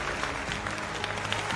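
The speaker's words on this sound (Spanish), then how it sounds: "Sí, aplaudo." Dense applause from a television studio audience on a live dance show, a continuous loud wash of clapping with faint crowd noise and no clear talk.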